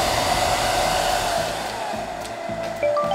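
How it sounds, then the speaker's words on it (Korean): A hair dryer blows steadily on a low setting, warming a peeled tape ball up close, its even whoosh continuous for a few seconds with slight shifts in pitch near the end. "약한 바람으로 드라이기를"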